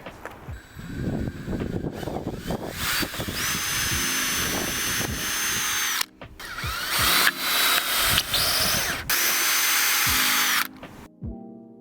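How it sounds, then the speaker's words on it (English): A power drill whirs loudly in several long bursts, revving and stopping, with short pauses between runs as it bores holes into wood for a pergola. "I'm going to drill some holes, put it up and then screw in."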